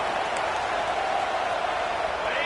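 Football stadium crowd cheering during a game, a dense continuous roar with scattered applause, loud and steady throughout.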